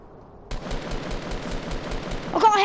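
Rapid gunfire from the video game Fortnite starts abruptly and repeats in a steady burst, loud and close, with a brief tonal game sound near the end.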